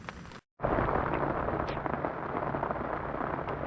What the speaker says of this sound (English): it's still raining quite hard